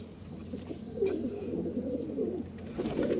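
Soft, low coos of baby pigeons of an Indian breed repeat in a steady murmur, close by, with a faint background hiss and no talking.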